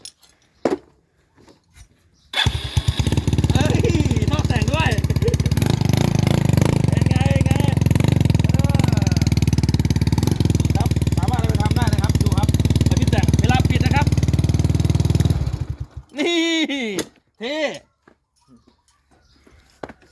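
A motorcycle with a broken key in the ignition is cranked and started, and its engine runs loud and steady for about thirteen seconds before cutting out. A few short bursts follow, along with brief talk at the end.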